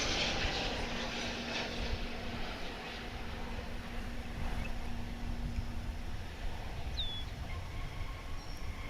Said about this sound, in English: From Mexico City comes American Flight 1066, 737-800 on Runway DFW.